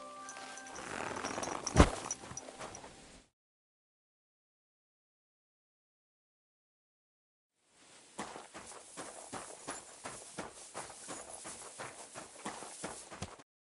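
Hooves of a horse walk in the video game Kingdom Come: Deliverance II, a run of close, even clip-clop steps in the latter half, after a louder burst of other sound and a stretch of complete silence.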